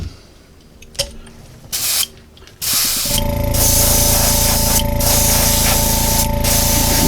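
An airbrush sprays opaque white paint onto a fishing lure, starting with a few short hissing bursts, then settling into a loud, continuous close spray with brief breaks and no talking.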